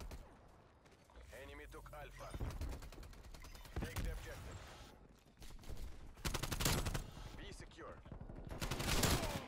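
Rapid bursts of automatic gunfire and shotgun blasts ring out during a Black Ops Cold War match, loud and repeated in clusters, with a player talking over the shooting.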